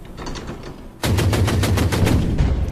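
Rapid machine-gun style gunfire in the Order of Battle Winter War strategy game set on the Karelian Isthmus, loud and continuous bursts of shots starting abruptly after a quieter stretch.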